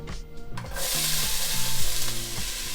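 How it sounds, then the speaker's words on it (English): Onions dropped into hot olive oil at the bottom of a soup pot burst into a loud, steady sizzle that swells after a brief quiet moment and holds on without talk, with faint low tones underneath. "Let's drop these onions in there."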